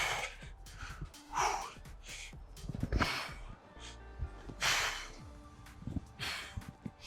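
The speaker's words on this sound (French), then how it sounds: "On inspire bien." Sharp audible inhalations and breaths come during a back and abdominal resistance band workout, several quick sniffing intakes spaced a second or two apart, close and fairly quiet, with no talking.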